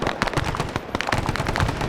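M60 machine gun fire in the video game SOG Prairie Fire, a dense rattling stream of rapid close shots mixed with other distant gunfire and bursts, loud and continuous with no speech.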